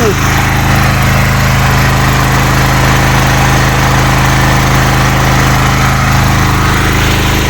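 A petrol generator converted to run on mains natural gas, rated around 2 kW, drones steadily at close range with a constant low engine hum that holds unchanged throughout.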